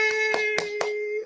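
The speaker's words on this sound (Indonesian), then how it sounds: "Tepuk tangan teman-teman." Four sharp hand claps land at an even rhythm over a sustained ringing musical tone. The claps are close and distinct, followed by a brief tail.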